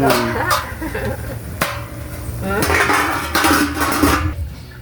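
Metal clatter and clanks of a lid being set on a cooking pot, several sharp bangs and scraping rattles close by, with a person talking briefly.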